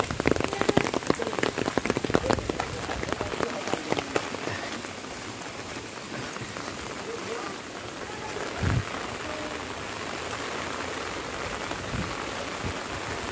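Steady monsoon rain pours down on a village road beside a house in Sakhalkond, Sangameshwar, Ratnagiri, a dense continuous hiss with scattered nearby drops, louder in the first few seconds, while people talk briefly.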